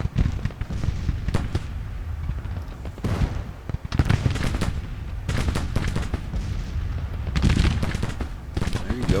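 Dense battlefield gunfire from Grand Tactician: The Civil War, with rolling musket volleys and booming cannon-like blasts crackling continuously and loudly, while a voice talks over the fighting.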